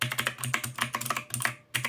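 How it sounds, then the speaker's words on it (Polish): Typing on an XPG Summoner Mini 60% mechanical keyboard with clicky Outemu Blue switches: a rapid, loud run of sharp clacks close up, with a brief pause near the end before the keystrokes resume. "jest to klawiatura na przełącznikach niebieskich moja. Dość charakterystyczny dźwięk, czyli dość głośny, przypominający maszynę do pisania."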